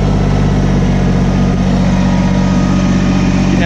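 A Kubota tractor engine runs steadily at about 1700-1800 RPM, a loud, constant mechanical drone with no voices over it.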